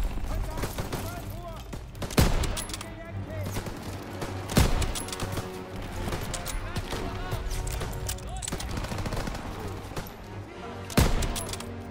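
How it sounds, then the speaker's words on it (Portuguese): Machine gun fire crackles in the World War II shooter Call of Duty WW2, with sharp bursts and a few louder shots amid battle noise, while players talk over the action. "Metralhadora, primeiro andar!"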